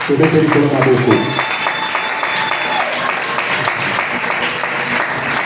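A church congregation bursts into loud applause and cheering, dense clapping that swells at the start and then continues steadily under a speaking voice.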